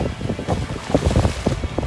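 Wind buffeting the microphone on Orient Beach in St. Martin, a steady close gusty rumble with soft surf in the background and no talking.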